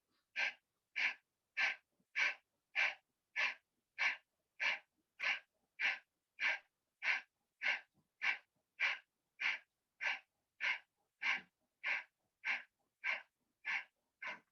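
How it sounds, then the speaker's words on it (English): Deep, rhythmic breathing during a yoga exercise: about two dozen sharp, even breaths follow one another at a steady pace, close and alone. "Take a deep breath in. Breathe out completely."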